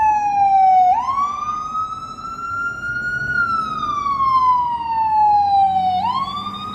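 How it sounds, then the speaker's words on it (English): An emergency vehicle siren on a city street in Newark, New Jersey sweeps slowly up and down in a loud, clear wail over low traffic rumble, sustained throughout. "Let me wait for the siren to pass by."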